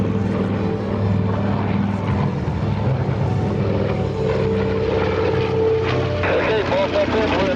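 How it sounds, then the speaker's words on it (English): A North American B-25 Mitchell bomber makes a photo pass at an air show at NAS Patuxent River, its piston engines droning loudly and steadily while an announcer talks over the roar. "that beautifully polished, meticulously maintained, priceless piece of flying history, the B-25 Mitchell"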